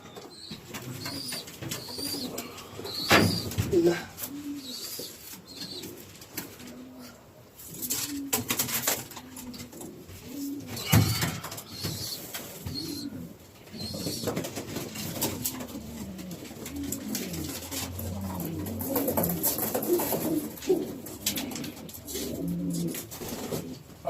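Pigeons coo repeatedly inside a loft, soft low rolling calls overlapping from several birds at close range, with occasional wing flaps and shuffling movements in the background.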